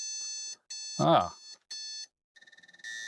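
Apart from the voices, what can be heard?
386SX motherboard POST beep code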